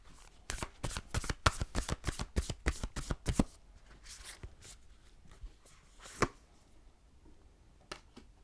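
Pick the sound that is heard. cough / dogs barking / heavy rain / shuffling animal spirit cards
shuffling animal spirit cards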